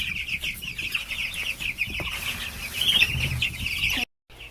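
Chickens cluck and chatter inside a heated coop, a busy overlapping stream of calls with an occasional flap of wings, close and steady before cutting off abruptly near the end.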